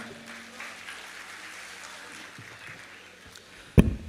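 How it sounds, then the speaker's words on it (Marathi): A college alumni gathering in Latur breaks into faint, sustained audience applause, a steady wash of distant clapping that ends with one sharp thump. "जोरदार टाळ्या वाजवा"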